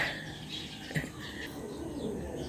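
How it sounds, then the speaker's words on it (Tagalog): Birds calling outdoors, with a soft cooing and faint chirps over steady background ambience. "May pang mga ibon, di ba?"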